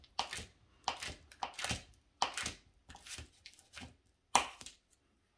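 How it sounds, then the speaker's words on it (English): A knife chops a stick of butter into small chunks for an eggless fig and ginger brown sugar snack cake, giving a series of close, irregular thuds on a cutting board with short pauses between strokes and no talk. "we're gonna cut our stick of butter into smaller chunks"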